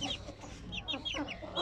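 Young chicks with clipped feathers cheep in quick high chirps, several overlapping calls close by over a faint background murmur.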